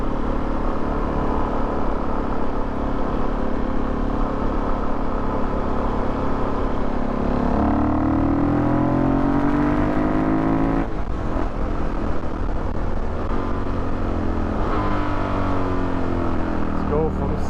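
A modified Suzuki DR-Z400SM supermoto with a carbureted single-cylinder engine accelerates on the road, its steady engine drone climbing in pitch through gear changes, heard close and continuous throughout.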